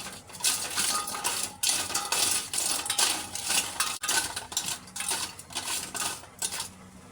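Snails being stirred with a splash of vinegar in a cooking pot, a steady run of bright metallic scraping and clinking from the spoon against the pot, close and busy, with no talk.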